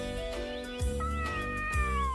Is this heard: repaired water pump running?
no